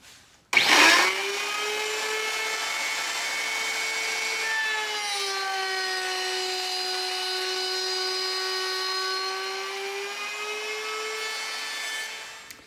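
A table saw or similar power saw runs through wood for a demilune table build, a steady loud whine with harmonic tones starting abruptly, dipping briefly midway, then winding down at the end, with no talking.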